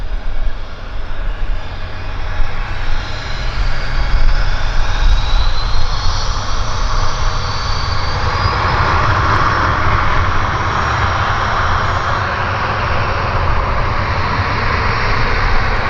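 A Bizjet aircraft runs engine tests at Vancouver airport, a loud, sustained jet roar with a broad rumbling hiss that holds steady throughout, heard from a distance with no talking.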